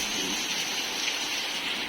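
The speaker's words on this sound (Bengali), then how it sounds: "একটুখানির মধ্যেই মুষলধারে বৃষ্টি শুরু হয়ে গেছে।" Heavy monsoon downpour pours down outside, a dense, steady hiss of rain that holds evenly at moderate loudness throughout, with no voices.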